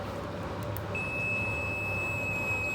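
A multimeter in continuity buzzer mode, its probes across a PH2.0 connector cable, gives one steady high-pitched electronic beep. The beep starts about a second in and holds unbroken to the end over a low background hum.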